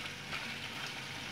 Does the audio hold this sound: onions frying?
yes